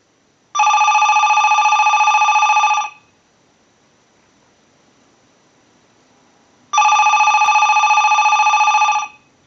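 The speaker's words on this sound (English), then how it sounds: "send a ring cycle like you were getting a call" A Mickey Mouse Model TEIF 8000 telephone bell rings in a test ring cycle, two loud bursts of about two seconds each, separated by a long quiet pause, with faint background hiss between rings.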